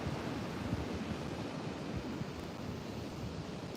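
Big ocean rollers surging onto the beach at Pine Knoll Shores during a hurricane watch, a steady, loud wash of surf mixed with gusting wind noise, with no voices.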